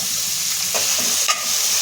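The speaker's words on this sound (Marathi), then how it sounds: "कांदा टोमॅटो आपला पटकन शिजण्यासाठी आपण मीठ टाकलेलं आहे ते फ्राय करायचे आपल्याला" Onion and tomato fry with salt in a pan, a steady, close hiss of sizzling oil with a couple of brief stirring scrapes, no voices.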